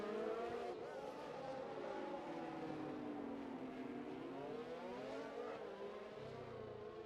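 F1 race cars circle the Monaco street circuit in a racing video game, engines whining and rising and falling in pitch as they accelerate and pass, a continuous layered drone heard at moderate distance.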